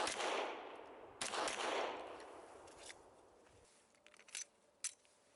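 A Glock 17 pistol fires two sharp, loud reports about a second apart, each trailing a reverberant decay, followed by a few faint metallic clicks.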